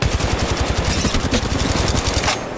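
Rapid automatic gunfire in the Apex Legends Mobile video game, loud close bursts of rhythmic shots filling the moment, tapering slightly at the end, no talking.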